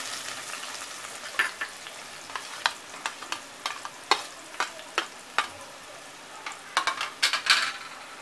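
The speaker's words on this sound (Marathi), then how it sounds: "व्यवस्थित मिक्स करते। टोमॅटो आणि कांदा छान शिजेपर्यंत" Chopped tomato and onion masala with ginger, garlic and green chilli frying in a pan, a steady close sizzle broken by a run of sharp scraping stirs that grow busier toward the end.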